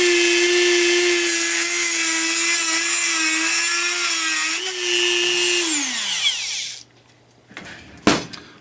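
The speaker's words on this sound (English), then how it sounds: "really the only tool you'll need for this entire method is a Dremel" A Dremel rotary tool cuts through threaded all-thread rod, a loud steady high whine with a strong tonal hum that holds for about six seconds, then sags and winds down as the cut finishes, followed by a short sharp clack.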